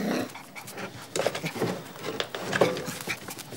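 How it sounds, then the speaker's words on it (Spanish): A female dog panting and whimpering indoors, close by, with busy, continuous breathy sounds and small whines throughout. "Sacá la perra de acá, Tacho."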